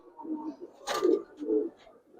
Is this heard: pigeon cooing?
yes